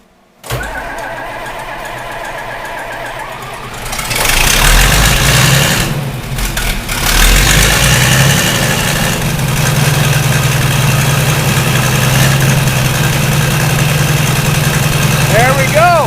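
A John Deere 4230 tractor diesel engine, just fitted with a new lift pump and primed with starting fluid, cranks and then fires, revving loudly before settling into a steady, close rumbling idle that continues for several seconds.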